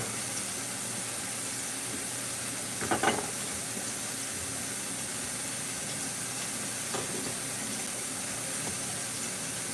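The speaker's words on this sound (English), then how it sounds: "And then we're going to add our carrots in here." Carrots drop into a simmering curry fish pot for Jamaican curry snapper, giving a steady soft sizzle and hiss with a brief rattling burst as they land, then a second fainter clatter.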